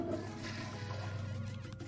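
A toilet flushes in the restaurant game Cook, Serve, Delicious!, a short rushing swirl of water heard on its own at low volume.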